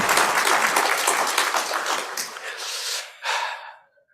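A synagogue congregation at a Rosh Hashanah sermon breaks into dense, energetic applause that holds for a few seconds, then swells briefly once more before cutting off into silence.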